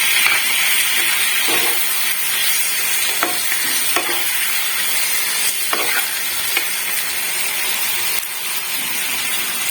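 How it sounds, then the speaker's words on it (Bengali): Soaked coconut powder goes into a hot cooking pan with a steady loud sizzle and hiss, with scraping stirs of a utensil against the pan at irregular intervals. "যে নারকেল পাউডারটা জলে ভিজিয়ে রেখেছিলাম সেটা অ্যাড করে দেবো"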